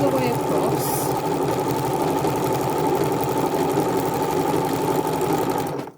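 A sewing machine stitching straight across layered fabric in a collage box piece, with a steady, loud, close mechanical whirr and rapid needle chatter that runs without a break and then stops at the end.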